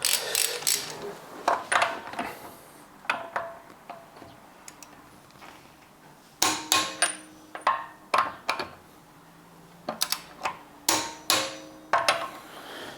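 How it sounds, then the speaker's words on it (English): Lug nuts on a Tesla wheel are tightened by hand in a star pattern, giving clusters of sharp metallic clicks and ratcheting taps in short bursts, separated by pauses and a few quieter handling knocks, close and fairly loud. "you just want to tighten these up in like that star pattern just to help set that wheel onto the hub"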